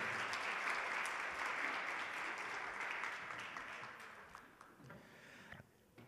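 Steady applause from an audience at a school award ceremony, a broad wash of clapping that holds for several seconds and then tapers off.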